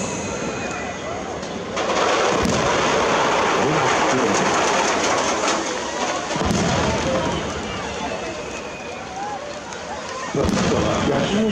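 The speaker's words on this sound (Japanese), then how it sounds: "再び打ち上げ花火に変わります。" Japanese chrysanthemum-style aerial fireworks bursting at the 2018 Nagashima opening commemoration display: loud, deep booms at intervals over a continuous crackling, rumbling outdoor wash, with a voice faintly present.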